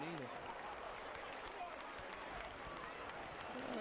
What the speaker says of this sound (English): There's the crowd on the far side of the stadium here.